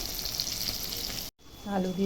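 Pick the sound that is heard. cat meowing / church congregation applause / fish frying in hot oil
fish frying in hot oil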